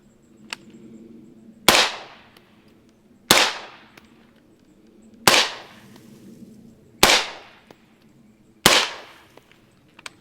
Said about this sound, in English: Just feel that rifle recoiling.